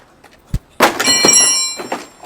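A Toyota Supra car door with a metal hinge is pressed, giving a sharp thunk followed by a loud, sustained squealing creak that fades, then a few smaller knocks, close up with no talk.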